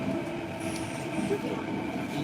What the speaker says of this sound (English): it's the subway. We just entered a tunnel or something like that